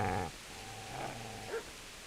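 A dog growls in Kingdom Come: Deliverance: a brief close snarl at the start, then a low rumbling growl that holds under faint game ambience and ends with a short yelp-like whine.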